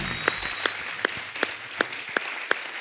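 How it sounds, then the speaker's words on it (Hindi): Steady rhythmic clapping from a studio audience at a comedy show, single claps landing roughly every 0.4 seconds, quiet and fairly distant, with no voices. "सब कितनी तालियां बजा रहे हैं आपके लिए"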